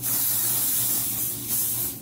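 An aerosol can of wig adhesive sprays in a steady, close hiss along a lace wig hairline, lasting about two seconds with a slight dip near the end.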